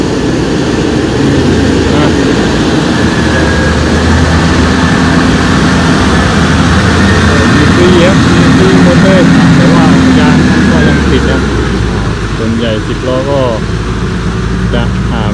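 A heavy engine roars loudly and steadily throughout, with a low rumbling drone, while people talk over it.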